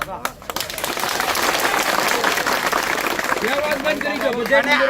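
Rally audience clapping in a broad, dense wash that rises and holds steady, with a speaking voice carrying over the applause throughout.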